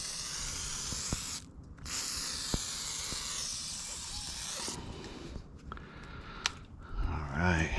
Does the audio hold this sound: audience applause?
no